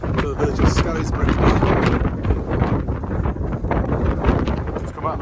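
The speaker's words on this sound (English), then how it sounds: "It's a bit windy." Strong wind buffets the microphone on an outdoor country walk toward a village, a loud continuous roaring rumble with gusts.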